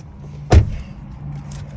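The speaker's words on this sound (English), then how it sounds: "let's pop the hood and see what's powering" A single dull thump as the hood of a 2021 Volkswagen Passat is popped open, close and brief over a low background hum, with no talking.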